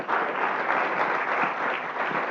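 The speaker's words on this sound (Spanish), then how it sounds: "Se merece un aplauso." An auditorium audience at a leadership lecture breaks into continuous, even applause, a full close wash of clapping from start to finish.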